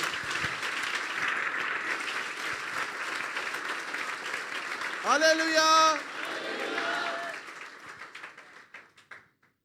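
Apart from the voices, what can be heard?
congregation applause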